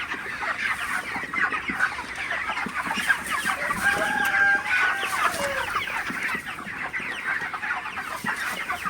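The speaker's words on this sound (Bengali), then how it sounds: "আপনারা দেখতে পাচ্ছেন আমার ব্রয়লার মুরগিগুলো" A flock of broiler chickens, about 30 days old, clucks continuously at night, a busy overlapping chatter with occasional louder calls and no talking.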